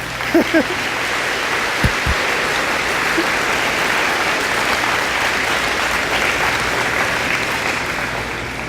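Full audience applause during an opening-day school assembly speech, a loud, even roar of many hands clapping, with a couple of brief voice sounds at the start.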